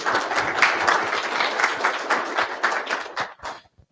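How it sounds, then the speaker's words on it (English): Applause from a conference session audience, dense steady clapping that fades and thins out toward the end, with a few last scattered claps. "please clap and please clap loudly so we can make the other session jealous"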